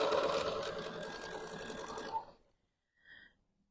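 A sewing machine stitches the backing of a quilt, right sides together, running steadily for about two seconds before stopping, followed by a brief faint whir.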